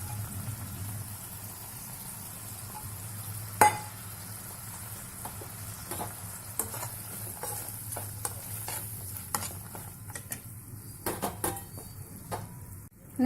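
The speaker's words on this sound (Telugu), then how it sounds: "ఈ లెమన్ జ్యూస్ని దీనిలో కలుపుతున్నాను. వేసుకుని ఇలా కలుపుకోవాలి." A spoon stirs lemon juice into a rice mixture in a pan, giving scattered scraping clicks over a low, steady hum, with a louder knock early on and no talking.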